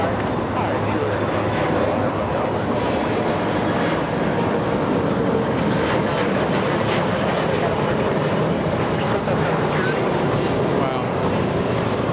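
A British Airways Airbus A380 lands at LAX, its jet roar steady and loud throughout with wind buffeting, while a voice exclaims briefly over it.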